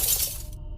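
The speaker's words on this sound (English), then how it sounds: "The first strike cracked the window." A tire iron strikes a car window and cracks the glass: one sharp, bright impact with a brief crackle that decays fast into near silence.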